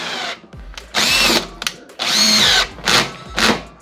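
A power screwdriver on a torque setting drives screws into an Airtronic D5 diesel heater during maintenance, in short close whirring bursts that rise and stop repeatedly.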